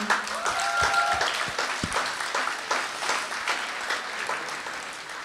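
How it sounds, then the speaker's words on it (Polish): Applause from the audience at the opening of the Maria Carmen festival, with scattered claps over a busy room and a few sharper hits near the start, fairly moderate in level. "Brawa!"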